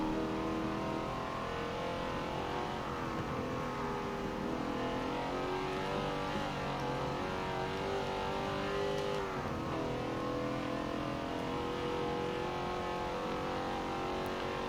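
Race car engine in Forza Motorsport 7 roars steadily, with a rising and falling rev pitch as it works through a turn, loud and continuous with no talk.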